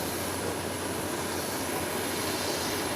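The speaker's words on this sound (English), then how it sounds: "It's a twin otter and it's up in the air already." A Twin Otter airplane climbing away after takeoff from a short island runway, a steady, loud engine and propeller roar that fills the whole clip without letting up.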